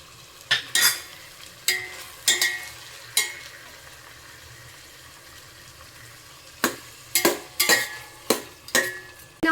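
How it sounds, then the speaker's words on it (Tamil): Mint and coriander leaves sautéed with tomato in oil for chicken biryani, a low sizzle broken by sharp, repeated scrapes and clanks of a ladle against the pan, loud and close, in bursts with quieter gaps. "மல்லி வந்து போட்டு ஓரளவுக்கு நல்லா வதங்கிடுச்சு"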